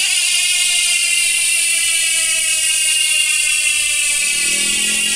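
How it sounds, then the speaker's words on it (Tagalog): Freewheeling Tanky TH31 MTB hub with six pawls on a rigid mountain bike, giving a loud continuous high whirring buzz of rapid clicks that holds steady throughout, close up with no talk. "yan yung tunog ng Tanky TH31 MTB hub kapag naka-free wheel."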